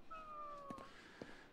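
Two short, close meows from a cat in the video game Ghostwire: Tokyo, one at the start and another about half a second later, over a steady electronic drone with a faint whistling tone.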